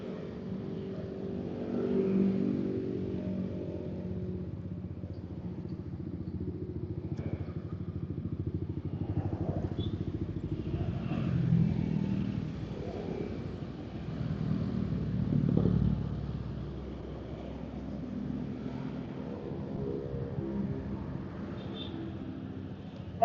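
A motorcycle rides on a road at night during an Eid homecoming trip from Jakarta toward Pandeglang, Banten, its engine droning steadily with mild swells in revving, fairly close and alone without talk.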